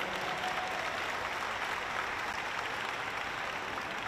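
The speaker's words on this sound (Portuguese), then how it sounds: "uma salva de palmas para ela." Audience at a formal solemn session in a Brazilian legislative chamber giving a medal-ceremony round of applause, an even, continuous wash of many hands clapping at moderate distance with no pauses.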